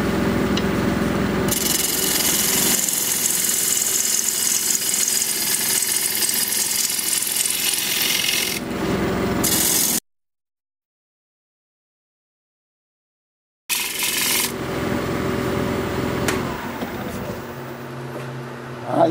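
An alder bowl spins on a wood lathe at about 1300 RPM while a tool cuts it, giving a steady close scraping rasp that stops abruptly for a few seconds of silence and then resumes rougher.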